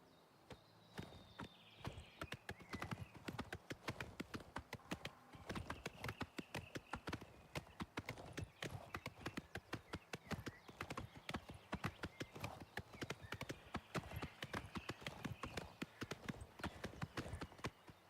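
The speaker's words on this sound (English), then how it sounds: "You are the goodest horse in the world." Horse hooves clip-clop steadily in Oblivion Remastered, a fast, continuous run of sharp hoof strikes that stays close and loud for the whole stretch, with a brief whinny-like tone in the background and no talk over it.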